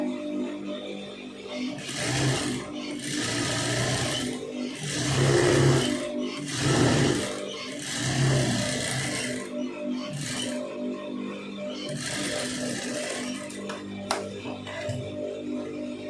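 A sewing machine runs in several bursts of a few seconds each while stitching a folded blouse lining, with short pauses and light clinks between runs.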